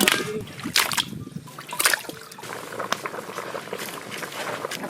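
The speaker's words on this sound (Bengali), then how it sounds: "মাংস ভালো করে ধুয়ে নেবো।" Raw meat being washed by hand in a basin of water for a village-style Bengali curry, with repeated splashes and sloshing bursts followed by steady trickling and dribbling, close and fairly loud.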